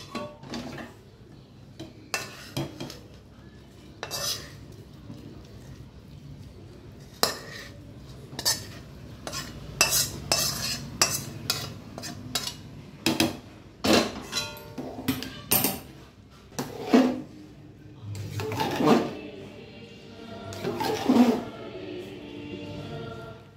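Metal utensil clinks and scrapes against a pot as cooked chicken is added to chicken khichuri and stirred, with irregular sharp taps over a low background hum.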